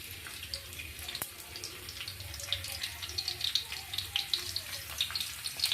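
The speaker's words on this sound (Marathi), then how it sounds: "जिरं मोहरी तडकायला लागली की लगेच लसूण टाकायचा" Cumin and mustard seeds crackling in hot oil, the tempering for a Vidarbha-style pithla: a close, busy sizzle with rapid small pops that grows denser and louder toward the end, with a voice talking underneath.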